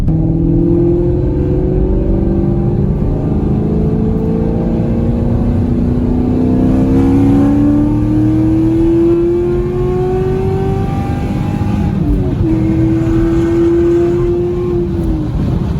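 A car engine revs up close and loud, pitch climbing steadily through the gears, with a brief dip at a shift before pulling hard again into a higher gear.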